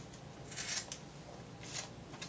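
Scissors snip through yarn dreads in a few quiet, crisp cuts: a quick pair of snips, a short pause, then one more close snip over a faint background hush.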